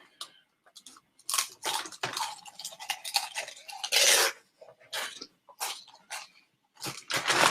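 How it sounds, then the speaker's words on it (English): Crunchy Doritos chips being eaten close to the microphone, a steady series of loud, crisp crunches and chewing bursts with short pauses between bites, no talking. "These Doritos. That's some good chips, man."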